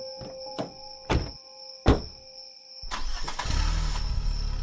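In a horror audiobook, a car door shuts with a series of hollow thunks, three distinct knocks spaced apart, before the engine cranks and settles into a steady, close idle.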